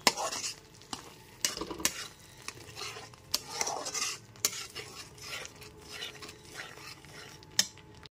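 Spice masala for a vegetarian chana paneer dish fries over a low-to-medium flame and is stirred constantly, with busy spatula scrapes and metal clinks over a light sizzle.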